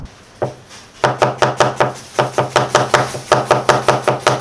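A knife chops onions on a cutting board in a pork and kimchi restaurant kitchen, a close, brisk run of about a dozen sharp, evenly spaced strokes with no talking.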